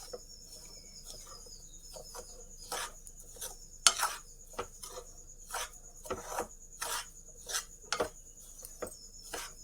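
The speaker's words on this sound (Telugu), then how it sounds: "ఇలా వేసాక ఒక్క 5 నిమిషాల పాటు కొంచెం బాగా కలుపుకోవాలి." A spoon scrapes and rasps against a pan while coconut laddoo mixture is stirred in ghee, giving a steady series of short, close scraping strokes over a quiet background.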